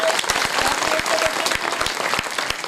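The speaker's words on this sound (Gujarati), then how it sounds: "આપણે એક વખત તો પેલા સાધુ સંતોને જોરદાર તાળીઓના ગડગડાટથી વધારીએ" A gathering at a saints' memorial ceremony bursts into applause, brisk close-up clapping with distinct individual claps over a crowd's rustle, lasting a few seconds.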